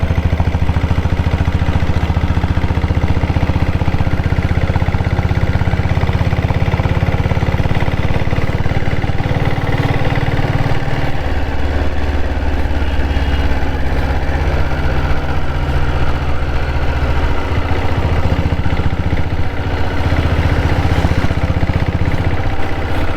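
A 1995 diesel Bullet Red Deluxe 7.5 HP motorcycle engine runs steadily in top gear, a loud, continuous low thumping drone that shifts slightly in pitch as it rolls along, with no talk over it.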